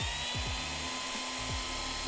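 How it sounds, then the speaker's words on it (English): A high, whining power drill runs steadily close by, boring a hole in a Fox Body Mustang trunk, its pitch dipping briefly several times as it bites into material. "This drill's pretty easy because of the material."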